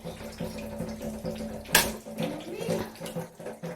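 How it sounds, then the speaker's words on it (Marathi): Water runs and splashes steadily close by from a leaking household water filter over a low mechanical hum, with one brief louder gush partway through. "फिल्टर चालू केलेलं आहे बघा पाणी गळते फिल्टरचं"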